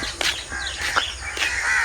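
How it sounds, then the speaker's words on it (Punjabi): Birds calling from eucalyptus trees at sunrise near sugarcane fields, a few harsh crow-like caws and chirps repeating over a steady outdoor hum, moderately near with no talk. "ਚਿੜੀਆਂ ਚਹਿਕਦੀਆਂ ਸਫੈਦਿਆਂ 'ਚ"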